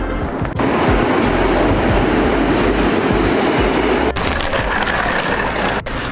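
A train ride near Wałbrzych in Poland produces a loud, steady rumble of rolling carriages with rhythmic clacks and a few sharp knocks, heard close from inside without voices.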